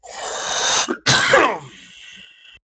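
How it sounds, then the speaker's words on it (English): Two harsh, close coughs in quick succession, the second trailing off into a raspy breath. "You have to forgive my coughing a little bit."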